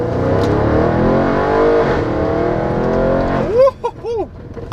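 Audi RS7 four-door performance car accelerating hard, its loud exhaust droning with rising engine harmonics, then sharp revving sweeps through gear changes near the end; close and dominant.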